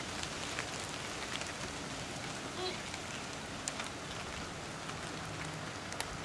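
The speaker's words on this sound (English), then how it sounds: "And the rain's coming," Outdoor rain falls steadily, a dense constant hiss with scattered sharper drop ticks throughout, fairly even in loudness and with no clear voices over it.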